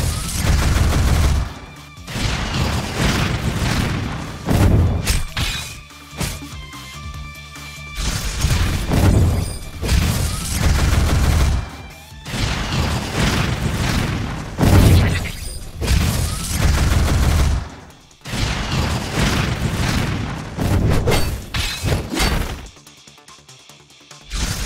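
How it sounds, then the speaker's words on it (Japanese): Missile launches and explosions in the One Punch Man Road To Hero 2.0 game, a long run of loud, dense blasts, crashes and shattering impacts broken by short pauses, ending in a quieter tail. "ミサイル発射。"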